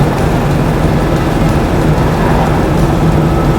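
A 1958 Chevrolet Corvette with a fuel-injected 283ci V8 drives along at road speed, its exhaust a steady, loud, low rumble mixed with wind and road noise, continuous and without talk.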